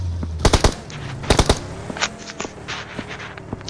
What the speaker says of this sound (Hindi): आगे फायर हो रहा है रास्ते पे